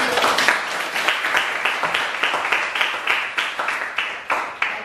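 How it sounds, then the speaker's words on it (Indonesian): Classroom applause for a student during a lesson: a steady patter of many hands clapping together, fairly close and continuous for several seconds, with no talking over it. "Kita beri applause"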